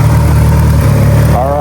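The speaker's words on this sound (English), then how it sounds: "It's idling nice and steady, idling nice and calm." A tuned Mitsubishi Evo 9 with an FP Zero turbo idles in a steady, even rumble, close and loud, with a voice talking over it throughout.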